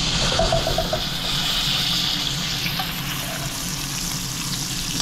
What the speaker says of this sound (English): now we turn the heat down and we put butter in and we baste it